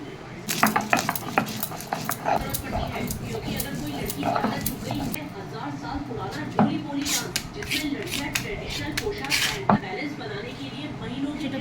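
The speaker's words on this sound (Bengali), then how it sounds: "আগে লঙ্কা বেটে নিচ্ছি" Green chilies crushed on a grinding stone, a steady scraping and knocking rhythm running throughout, close and fairly loud, with a few sharper clacks of stone on stone.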